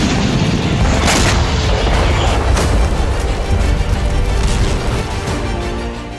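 Loud, continuous rumbling booms with sharp blasts around one and three seconds as sea drones explode at Sevastopol, close by amid a dense roar.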